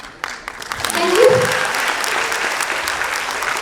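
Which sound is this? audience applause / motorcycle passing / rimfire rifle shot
audience applause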